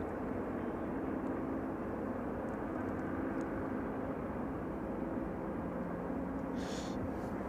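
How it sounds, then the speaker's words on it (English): A Boeing 757 arrives inbound at East Midlands Airport, its engines a steady broad roar that holds loud and constant throughout, with a short higher hiss near the end. "And the last 757 inbound there."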